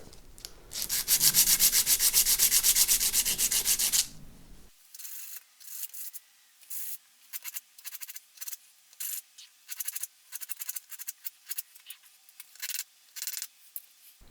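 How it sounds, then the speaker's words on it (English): A bone guitar nut sanded with sanding pads: a sustained rough rub for a few seconds, then a long series of short, light scratchy strokes repeating in quick irregular rhythm, close up. "I've got a series of kind of finer sanding pads, and we'll just start working our way through them"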